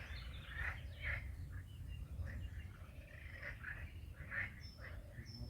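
Frogs croak outdoors at night, repeated raspy calls of several animals in irregular bursts over a steady low hum, moderately distant.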